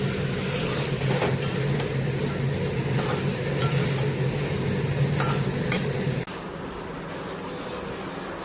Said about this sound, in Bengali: জিরে দিয়ে পটল আর আলুটা ভেজে মশলা কষিয়ে নিচ্ছি।